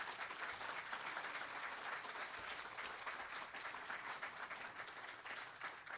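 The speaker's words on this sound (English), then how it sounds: "Could we have a round of applause now for all the candidates?" Sustained applause from an audience at a League of Women Voters candidate forum for a Republican congressional primary, steady dense clapping filling the room at an even level throughout, with no talking.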